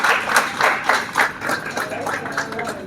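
An audience at a Lucknow stage event claps in uneven bursts, the applause rising and falling over a couple of seconds without any talk over it.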